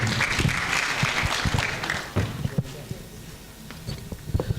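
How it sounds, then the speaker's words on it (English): Audience applause at an international business summit in Eldoret, Kenya, a moderate burst of clapping that fades over a few seconds while voices talk in the hall. "Tumpigieni makofi wakati anakuja."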